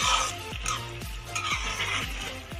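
Fenugreek leaves being stirred in oil in a cooking pot, with repeated scraping strokes of a spoon against the metal and a soft sizzle underneath, close and steady.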